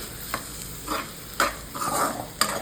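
Onions frying in a pan while cooking a matki sprouted moth bean curry, with a steady low sizzle broken by several short scraping stirs spaced about a second apart.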